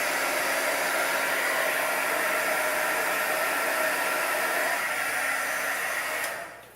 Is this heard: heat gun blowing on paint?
yes